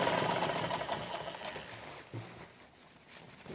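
A sewing machine runs steadily while stitching along a garment collar about half a centimetre from the edge, its motor whirring continuously and easing off toward the end.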